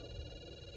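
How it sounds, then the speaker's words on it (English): A Snap Circuits electronic keyboard sounds a steady synthetic tone resembling a telephone ring, produced by pressing a green and a blue key together; faint and continuous with a constant pitch over a low background hum. "pushing a green and a blue key at the same time, but this particular tone may remind you of a telephone ringing"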